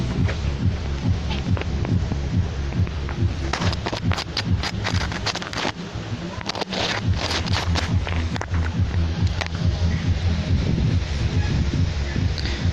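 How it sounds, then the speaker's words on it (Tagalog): Strong wind buffets a microphone in Barangay Buangan, Torrijos, Marinduque, a loud constant low rumble with irregular thumps and gust pops throughout, close and unrelenting, with no voice. "Medyo malakas ho ang hangin ngayon sa ating uh, dito sa Barangay Buangan, Torrijos, Marinduque."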